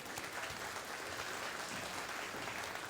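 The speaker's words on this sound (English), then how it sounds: "let's give him a round of applause." Audience applause at an Indigenous speaker's talk, a steady, dense wash of many hands clapping that holds at a fairly even level throughout.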